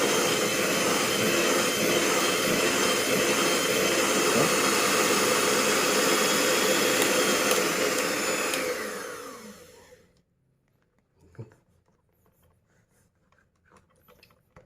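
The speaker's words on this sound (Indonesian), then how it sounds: "Kita mixer, kita bolak-balik," An electric mixer whirring steadily while mixing ice cream, a loud continuous motor drone that winds down and stops, followed by faint handling knocks.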